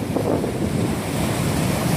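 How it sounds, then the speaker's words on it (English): Rough surf breaking against a jetty in sea fog, a loud continuous roar and wash of waves close by, buffeted by wind noise on the microphone. "Those waves are so rough and pretty."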